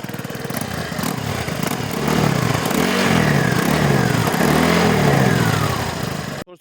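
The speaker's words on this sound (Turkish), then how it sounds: "Acil durumlardan dolayı motor motosikletin egzozunu dinliyoruz." A Honda PCX 150 scooter engine runs with its exhaust loosely fitted, its bolts left out. It gives a steady, loud, close mechanical drone with low harmonic throbbing that rises and falls gently through the run before cutting off at the end.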